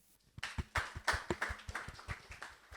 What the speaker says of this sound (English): Please give applause for him